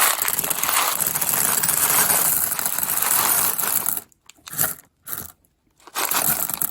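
Fused glass cabochons pour into a rock tumbler barrel as a continuous clattering, crunching cascade of small glass pieces, followed by a few short rattling bursts and brief pauses.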